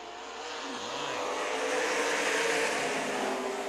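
Sprint cars accelerating on a dirt race track, the engine roar building steadily from moderate to loud and staying sustained, with no talk over it.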